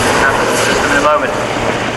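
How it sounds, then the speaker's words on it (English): A helicopter roars overhead at an airshow in a slow run by, a steady, continuous drone, with a voice speaking under the noise. "That's a big piece of helicopter that's moving around the sky."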